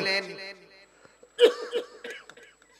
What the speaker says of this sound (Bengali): আমার একটু ঠান্ডা লেগে কাশি হইছে